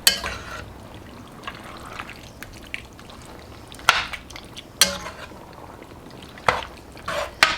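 Metal spoon scraping and stirring a pot of black bean chicken chili with tender peppers, a few sharp clinks and scrapes spaced irregularly over a low simmering background.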